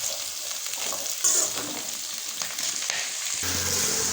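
Spring onions sautéing in a pan: a steady, bright frying sizzle runs throughout, with occasional soft stirring scrapes, close and even in loudness, no voices.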